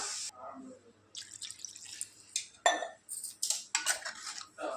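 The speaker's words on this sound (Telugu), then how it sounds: "నేను ఒక హాఫ్ లీటర్ వాటర్ పోసుకుంటాను" Water is poured into a pan of home-style chicken curry with a splashing, rushing sound in uneven bursts, mixed with clinks of a utensil against the pan, fairly close and with no talking.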